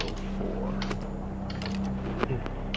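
Keys tapped on a keyboard in the video game Stories Untold, as numbers are entered: a short run of soft, uneven clicks over a dense, steady background hum.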